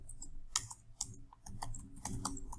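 Quiet, uneven bursts of keystrokes on a computer keyboard, a run of quick clicks and taps with short pauses, heard close and alone.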